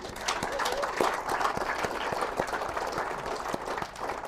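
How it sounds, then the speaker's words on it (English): A crowd claps steadily, a dense wash of applause filling the room, with a few sharper individual claps standing out. "Let's have a round of applause for all of our mothers here today."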